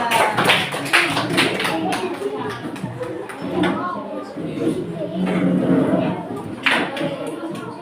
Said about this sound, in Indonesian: Masih tepuk tangan.